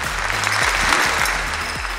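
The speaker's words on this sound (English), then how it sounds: "give yourselves a round of applause" Sustained applause from a room full of staff at a Houston company celebration, dense steady clapping throughout with a low hum underneath.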